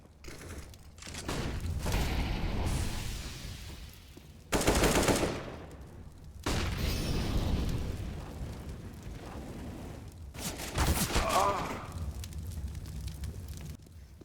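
Bursts of gunfire in a CS:GO match crack out in several separate loud volleys with short gaps of quieter ambience between them.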